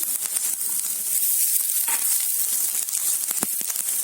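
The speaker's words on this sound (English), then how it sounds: "We add chopped garlic and grated ginger and saute it for 1 minute." Chopped garlic and grated ginger sizzle in hot oil in a kadhai, a steady bright hiss with a few light clinks of stirring, close and continuous with no talking.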